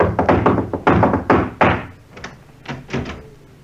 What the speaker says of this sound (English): he lays down a wicked beat on the knocker like so